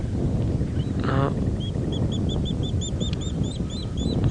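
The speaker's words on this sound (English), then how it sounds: "I guess Egyptian goose. Chasing each other, it would appear." Egyptian geese chase each other on an evening safari drive, letting out a run of repeated raspy honks and calls in quick succession over a steady outdoor background, with a brief harsher burst early on.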